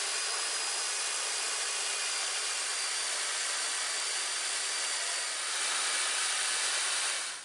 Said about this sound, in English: if you use a drill with the sanding pad